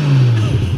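A Nissan Skyline R34 GT-R engine gives a short, loud, close rev, its deep growl rising briefly and settling, with no talking.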